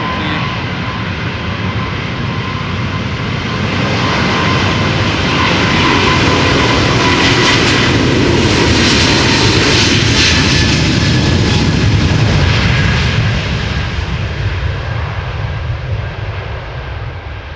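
United Boeing 777-200 jet departing Amsterdam Schiphol for Newark, a powerful, sustained engine roar that swells loudest mid-way and then eases slightly as it moves off, with no voices.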